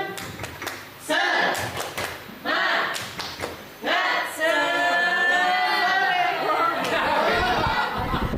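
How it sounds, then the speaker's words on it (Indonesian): A group claps out a sharp, rhythmic pattern, then voices join in a loud chant together, close and lively. "Kita tepuk semangat dulu."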